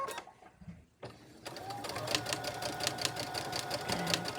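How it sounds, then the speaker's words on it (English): A sewing machine stitches a buttonhole-style turn on a thrifted scarf vest, starting with brief needle bursts, a pause, then a continuous rapid close-up chatter of stitching. "Go across, pick our foot up, and go back down, just like a buttonhole."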